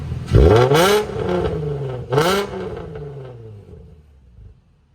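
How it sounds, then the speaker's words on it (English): Nissan 350Z with its stock exhaust fitted with a Nismo muffler, revved twice, loud and close, each rev climbing sharply and then falling back to a lingering rumble that fades away. "that's what the stock exhaust sounds like with a Nismo muffler"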